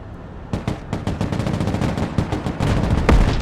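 Rapid bursts of tank gunfire in the video game Broken Arrow, a Soviet invasion of Europe battle, with sharp repeated shots and a heavier blast near the end, loud and without talk.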